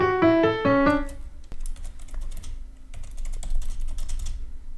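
Rapid typing on a computer keyboard, a close run of crisp clicks following a few sustained musical tones, with the keystrokes coming in short irregular bursts.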